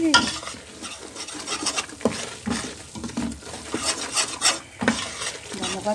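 Food frying in olive oil in a pan while being stirred, close crackling sizzle with repeated rhythmic scrapes and clinks of a utensil against the pan, loud and busy throughout.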